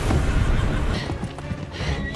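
Horses whinny amid hoofbeats and clattering, loud and close, in a dramatic scene from The Witcher TV series.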